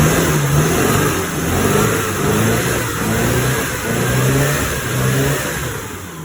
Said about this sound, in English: that's how you warm up a cold engine